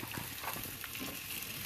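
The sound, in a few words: green chilies and onion frying in mustard oil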